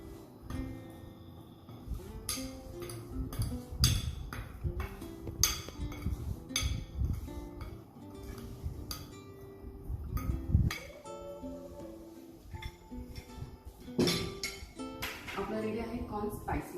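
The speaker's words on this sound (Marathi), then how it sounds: "आता हे सगळं चांगलं हलवून घेऊ।" A spicy corn salad is tossed with olive oil in a bowl, with repeated clinks and scrapes of a spoon against the bowl and soft rustling of the mixture, alongside intermittent speech.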